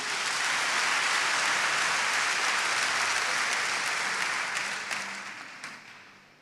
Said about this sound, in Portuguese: Dê maior salva de palmas eterna.